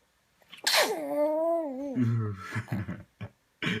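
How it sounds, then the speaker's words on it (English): A small baby sneezes once, a sharp burst followed by a high wavering cry-like squeal, then soft fussing noises close by. "Bless you. Did you just sneeze?"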